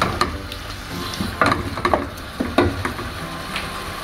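Spiced mixture for beef kabiri rice being stirred in a pan, with a spoon scraping and several soft sizzling strokes at an uneven rhythm, close by and fairly quiet, without any talking.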